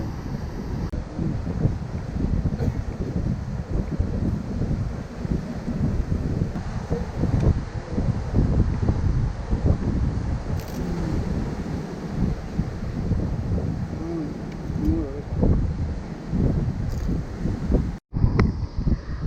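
A breeze blows across a black-sand beach, heard as continuous rumbling wind buffeting the microphone, loud and steady throughout with no speech.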